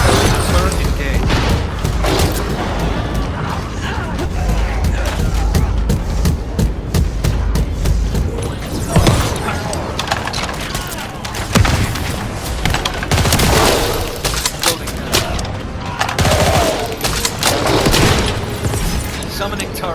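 Rapid bursts of turret gunfire and explosive booms in The First Descendant during a fight against a colossus, loud and dense, with mechanical clanks and a voice speaking over the barrage.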